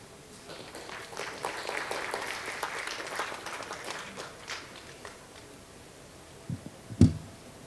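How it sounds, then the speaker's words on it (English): Audience applause at the MISA 2025 event for speaker Marco Winter, a broad wash of clapping that swells early and gradually thins out, ending with a couple of sharp isolated knocks near the close. "Big round of applause for Marco Winter, ladies and gentlemen"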